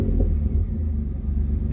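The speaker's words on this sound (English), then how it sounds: "It's like the engine shuts off for a second, but doesn't stop turning and then comes right back on" A 2000 Pontiac Firebird engine idling with a deep, steady rumble and a slight stumble as the gas is pressed, close and loud, with no voices.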